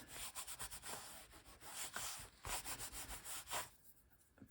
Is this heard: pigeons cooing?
no